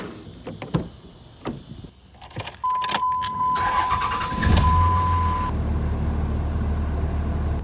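A car with an ABS warning light on starts up after its batteries are reconnected, with door and latch clunks, a brief electronic chime, then the engine settling into a close, steady idle hum.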